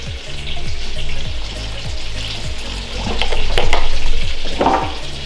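Mashed potatoes stewing with butter and milk in a pan, a steady loud bubbling sizzle with repeated rhythmic scraping strokes of a utensil stirring close by.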